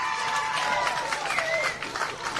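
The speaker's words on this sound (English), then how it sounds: "cheer goes up for the Corellas bench" A crowd at a women's rugby match between Victoria and NSW Country Corellas raises a cheer for the Corellas bench, a broad swell of distant voices beneath a commentator talking.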